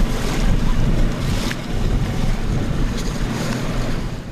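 Boats pass on the Istanbul Bosphorus as waves slosh and wind buffets the microphone. The rushing surf and hull noise swell and ease in a loud, continuous wash, with no clear voices.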